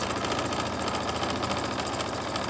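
A sewing machine stitches a fabric face mask in a fast, even run of needle strokes over a low mechanical hum, close and continuous with no voices.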